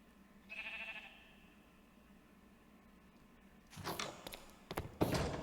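A sheep bleats once in the Minecraft video game, a short nasal bleat heard alone. A few seconds later come several dull thunks and clatters.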